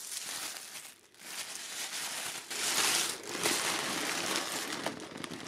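Continuous crinkling and rustling of plastic and paper packaging around a silicone reborn doll, close and fairly loud, with a few sharper crackles and no talking.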